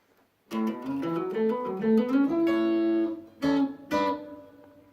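A melodic guitar phrase of picked notes stepping through a run, with a sustained bent note and a couple of sharp accented hits near the end.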